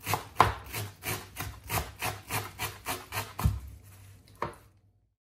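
A knife chops coriander and parsley on a cutting board in about ten steady, evenly spaced strokes, ending with a couple of sharper knocks and then quiet. No one speaks.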